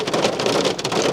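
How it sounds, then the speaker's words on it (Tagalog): Heavy raindrops patter outside in a dense, steady wash, close and fairly loud, with no voices. "Yung patak ng ulan."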